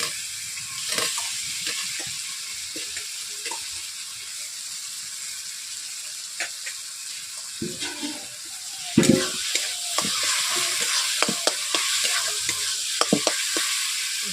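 Potatoes sizzle as they hit hot oil and spice masala for a village-style egg curry, a steady close frying hiss broken by stirring scrapes and a louder clatter partway through.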